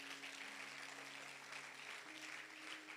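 A church congregation applauds to acclaim the Lord, a steady wash of clapping at moderate distance, fairly faint and continuous without pauses.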